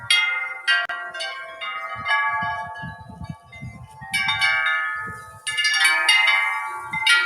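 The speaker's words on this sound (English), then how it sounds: "I don't think any of his wind chimes catch more wind than this one." Wind chimes ring on a windy day, a dense wash of bright overlapping metallic tones that swells and fades with the gusts, with a low rumble of wind underneath throughout.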